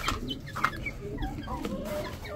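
Chickens cluck and murmur close by, with short squawky calls scattered over a soft background of farmyard noise.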